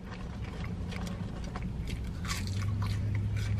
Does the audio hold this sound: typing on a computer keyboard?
no